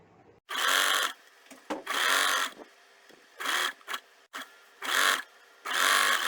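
A home tailor's sewing machine stitches folded side and bottom edges of a frill and shawl collar, running in five loud bursts of steady whirring separated by short pauses, with no talking.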